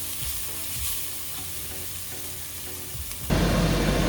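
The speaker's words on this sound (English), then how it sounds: "Now I am going to add the garlic here. Saute this until you feel the fragrance of the garlic and onion." Garlic and onion sautéing in a pan, a steady close sizzle with light stirring scrapes, then a sudden jump to a louder, fuller frying hiss near the end.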